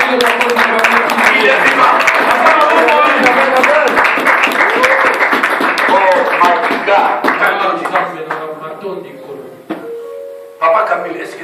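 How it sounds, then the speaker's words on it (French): A church congregation applauds to acclaim the king of kings, dense clapping mixed with cheering voices that fades toward the end, followed by a spoken phrase. "Acclamons le roi des rois."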